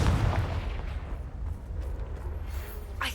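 Booming magical blasts from Bombarda and Confringo spells in Hogwarts Legacy, a heavy explosive rumble at the start that settles into a low roar, followed by a brief whooshing burst near the end.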